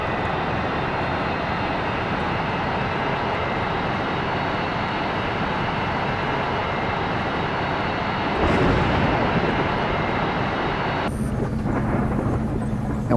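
A airplane engine drones steadily at full power during takeoff in Airplane Flight Simulator EVO, a constant loud roar that swells briefly near the end before shifting tone.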